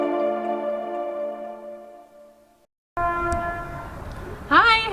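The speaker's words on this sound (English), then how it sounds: "That's just a train, the distance, the noise." A train horn blows a long sustained tone that fades out, then a second horn blast follows under some background noise, heard from a distance and fairly faint.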